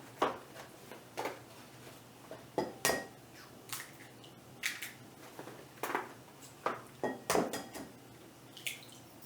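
Eggs being cracked into a bowl make a series of sharp taps and clicks on the rim, with small shell and liquid sounds spaced a second or so apart, close and fairly quiet with no voices.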